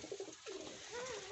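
Red wild pigeons cooing softly and close by as they eat, with several low, rolling coos overlapping in a short, faint burst.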